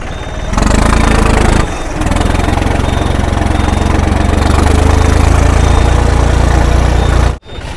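A modified small tractor engine running with a loud, steady mid-pitched throb close by, briefly dipping in level near the start and cutting off abruptly near the end.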